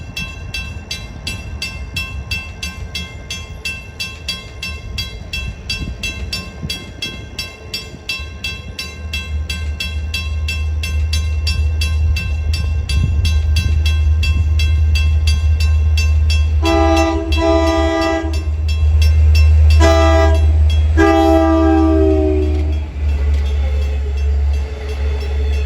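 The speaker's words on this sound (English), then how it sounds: "approaching 11th Street at 6:12 is train 662, Hunters Point Avenue to Port Jefferson" Long Island Rail Road train 662, Hunters Point Avenue to Port Jefferson, rumbles closer to 11th Street with a deepening roar, then lets out two loud horn blasts near the end as it draws near.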